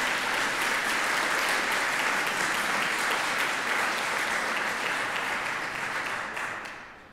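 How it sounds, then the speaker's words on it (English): An audience claps steadily for seven finalists at an award evening, a dense, loud, even applause that carries for several seconds and then fades out. "So a round of applause for the seven."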